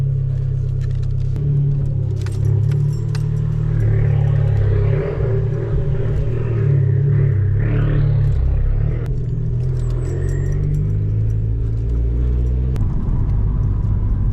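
A car's engine runs after a loud cold start, a steady, deep, close rumble with slight shifts in tone and some faint rattles over about fourteen seconds.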